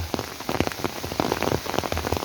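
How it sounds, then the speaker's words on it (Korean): A sudden rain shower pours onto a forested Bukhansan hiking trail in Seoul, a dense steady patter of drops hitting leaves and ground close by, with no talking. "이거 소나기 같은데요?"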